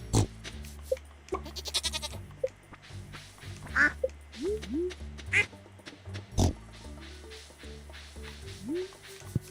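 Duck quacking in the Stardew Valley farming video game, several short nasal quacks scattered among game music and other farm animal bleats, clear and close.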